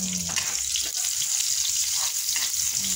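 Sliced onions hit hot oil in a pan for a Filipino dish, making a steady, loud, crackling sizzle that runs for about three seconds.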